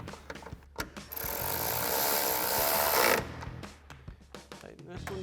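Ratchet with a 10mm socket running headlight mounting hardware back in on a Jeep Wrangler JL, a few seconds of continuous close rapid clicking and whirring, with scattered taps and handling sounds before and after.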